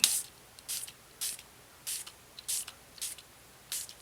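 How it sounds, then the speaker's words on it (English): A shimmer mist spray bottle mists onto a paper card in seven short, airy bursts, evenly spaced about half a second apart, close and fairly quiet. "I'm going to just grab my shimmer mist and we're just going to spray it"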